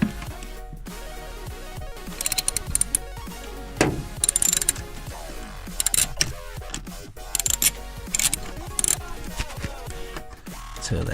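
Small screws on a Vauxhall Astra H windscreen wiper motor are turned and undone, giving irregular faint clicks, ratchety ticks and light metallic rattles close by.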